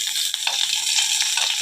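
Small onions (shallots) sauté in a pan, a bright, close hiss of frying with a few soft scraping stirs over the short stretch, no voices.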